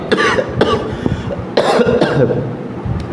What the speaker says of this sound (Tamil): இருமல் வருகிறது அட்ஜஸ்ட் பண்ணிக்கோங்க